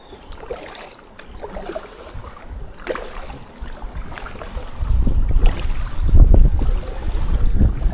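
Wind gusts across the water during a sit-on-top kayak outing, a rough, blustery rumble that builds and grows louder toward the end, with faint paddle and water sounds and no talk.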